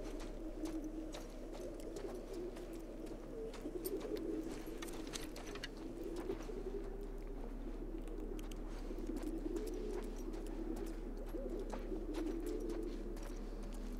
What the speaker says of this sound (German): Sieht irgendwie voll gruselig aus mit den ganzen Tauben hier.